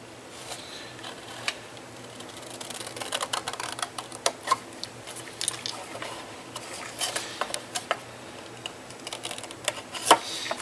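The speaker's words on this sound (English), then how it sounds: "put your scissors there, and just cut straight down" Paper gift bag being cut straight down with scissors, a scattered series of crisp snips and rustles at close range, irregular and fairly quiet, with no talking.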